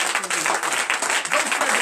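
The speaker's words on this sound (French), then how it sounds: "Donnez encore l'acclamation" A church congregation breaks into applause at a morning prayer service, dense steady clapping from many hands, loud and sustained, with voices faintly mixed in.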